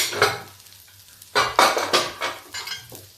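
Chana dal tipped into a sizzling onion tempering in a pan, bursts of loud crackling hiss with stirring and scraping of a utensil against the pot, close and uneven.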